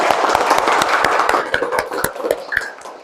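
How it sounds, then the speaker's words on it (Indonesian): Students in a classroom applaud together: brisk, irregular clapping from a small group, loud and close, gradually loosening toward the end. "Oke, berikan tepuk tangan untuk kita bersama."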